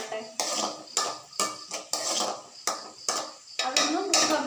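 Onions and green chillies frying in oil in a pan, stirred with a utensil that scrapes and clinks against the metal in repeated strokes, close up, with sizzling between the strokes.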